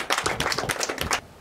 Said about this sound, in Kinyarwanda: Amashyi ku Mana yacu